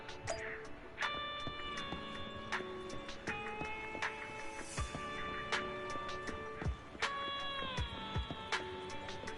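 A cat in the video game Zenless Zone Zero meows several times in short, separate calls, with faint ticking in the background.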